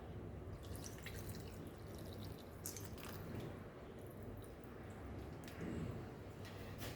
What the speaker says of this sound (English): And we'll add our tamarind water.